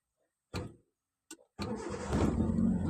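A car engine cranks over and catches with a short sputter, then settles into a steady, close running hum, heard during a beginner's first driving lesson.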